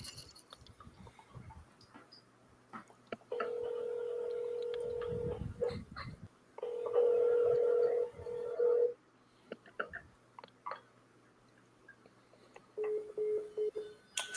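Telephone dialing tones play in a few sustained beeps and tone bursts, spaced across the stretch, with quiet clicks and some brief talk between them.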